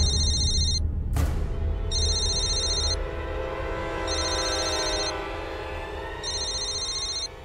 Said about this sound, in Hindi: फोन उठाओ, लाउड स्पीकर पे रखना।